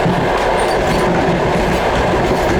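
A Russian long-distance passenger train bound for the coldest city in the world runs on its rails with a loud, constant rumble and clickety-clack, heard up close with no voices.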